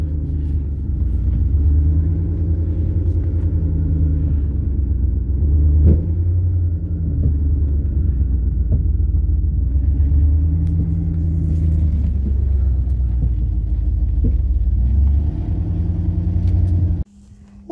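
An old yard truck serving as a makeshift tow truck drives along with a steady, loud, low engine rumble and slight rhythmic wavering, then cuts off abruptly at the end.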